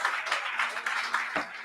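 A church congregation claps in rhythmic bursts of applause, moderately loud and close, for a brief moment.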